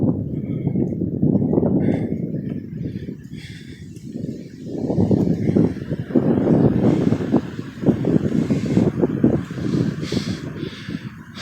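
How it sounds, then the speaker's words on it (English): Wind buffets the microphone during an uphill walk through Polo Terrace, with low, gusty rumbles that surge and fade in uneven bursts, and a voice faintly present at times. "So far the wind doesn't seem that bad. I'm really hoping it's not completely destroying my audio."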